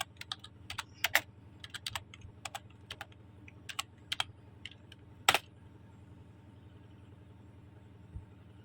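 Typing on a computer keyboard, close and fairly quiet, with irregular bursts of sharp key clicks and one louder tap, over a low steady hum, ending in near silence.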